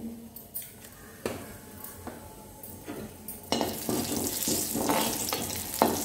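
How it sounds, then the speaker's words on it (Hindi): Chili, cumin seeds and asafoetida sputtering in hot oil in a pan for spicy Hyderabadi paneer, with a steady crackling sizzle, intermittent sharp clicks of a utensil against the pan, and the frying growing louder midway. "तेल हमारा गरम हो चुका है, इसमें हमने एक छोटी सी मिर्ची डाली, थोड़ा सा जीरा डाला और थोड़ी हमने हींग डाली"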